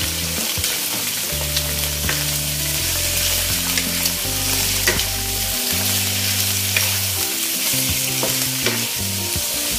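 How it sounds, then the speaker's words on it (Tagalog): Squid frying in a hot pan with upo, a steady loud sizzle broken by repeated stirring scrapes and clanks, close and continuous with no talking. "ilagay na po natin itong ating pusit"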